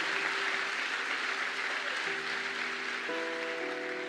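A church congregation applauding for the Lord: a steady, moderately quiet wash of clapping, with sustained held tones, likely keyboard, running underneath throughout.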